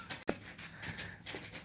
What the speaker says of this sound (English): This is the noise he makes when I tell him he can't bark